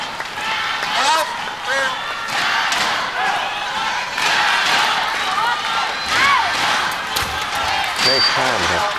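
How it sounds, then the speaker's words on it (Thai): Thai fans cheer loudly and continuously at a women's sepak takraw team match between Thailand and India at the 2010 Asian Games, with shouting voices, whistles and crowd roar filling the arena throughout, punctuated by occasional ball impacts. "แฟนๆชาวไทยไปเชียร์กันด้วย"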